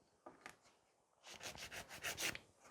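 A nail file rasps across a fiber gel fingernail in short back-and-forth strokes, soft and close, with a brief pause before a quicker burst of filing.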